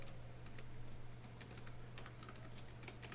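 Soft, quick keystrokes on a computer keyboard, an irregular run of light clicks heard close but quiet over a steady low electrical hum.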